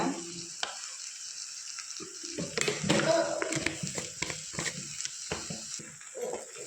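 Potato kurma masala with onion, tomato and green chilli is stirred in a sizzling pan, with a constant frying hiss and clustered scraping, clattering strokes that build in the middle, heard up close.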